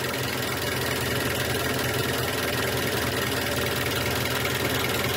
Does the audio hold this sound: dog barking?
no